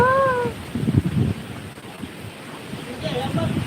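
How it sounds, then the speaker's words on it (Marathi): Strong wind roars and buffets the microphone in low, rough gusts, with a brief whistle-like tone near the start and faint chirps later. "इथं असला वारा सुटला"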